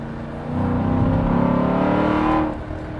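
A Chrysler 300 SRT8 in stick mode revs hard as it accelerates, its engine note swelling loud and rising for about two seconds, then easing off.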